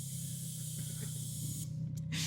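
A steady hiss of escaping air from a rally car tyre during pressure adjustment at a WRC rally, close and fairly quiet, with a brief sharper burst near the end.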